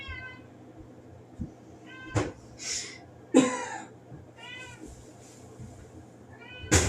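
A house cat meows several times, loud and drawn out, with rustling and soft knocks between calls and faint voices in the background.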